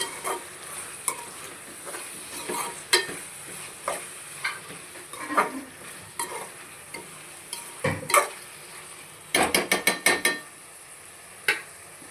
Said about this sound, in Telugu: చూడండి, ఉల్లిపాయలు బాగా వేగినాక నేను టమాటా వేసుకున్నాను.